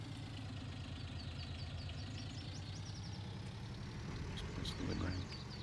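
A tractor engine idles steadily in Farming Simulator 19, a low continuous rumble with a regular mechanical pulse throughout, with a slight swell near the end.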